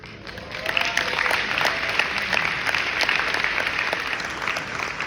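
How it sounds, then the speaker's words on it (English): Audience applause at a life-lessons talk in Dubai, a dense steady clapping from a large crowd that fills the whole stretch at even loudness, close and continuous without a break. "Big mistake, clapping now"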